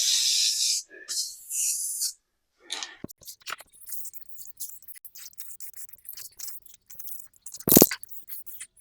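Primer sprayed from a rattle can onto the insides of tonneau cover panels, with several short hissing bursts at the start followed by quieter rustling and handling sounds.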